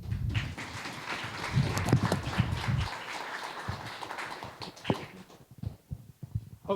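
An audience at an investor panel in a large venue claps: dense, continuous applause that peaks early and then thins into scattered claps toward the end.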